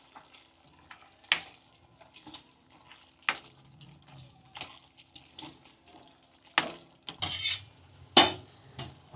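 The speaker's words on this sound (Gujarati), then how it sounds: "હવે બધું મિક્સ કરી લઈએ." Peanut bhajiya curry being stirred in a pan, with repeated close scrapes and clinks of a spoon against metal and soft sizzling between strokes, growing busier and louder toward the end; no voices.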